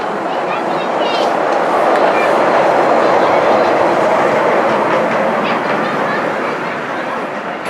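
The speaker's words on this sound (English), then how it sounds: "And around the corner comes 4498 Sir Nigel Gresley." A miniature railway locomotive modelled on an LNER A4 class, numbered 4498, runs at a light railway gala with a continuous loud rumble and clatter, while people talk over it throughout.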